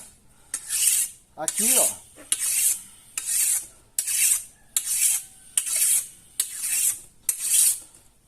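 A machete blade is sharpened on a wetted whetstone in about nine even, rasping strokes, each a loud scraping swipe, with a brief spoken interjection near the start.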